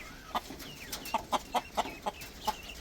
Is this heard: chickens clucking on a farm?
yes